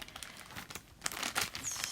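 Paper crinkling and rustling while a subscription box is unboxed, a series of close, uneven crackly handling bursts over a couple of seconds, with no one speaking.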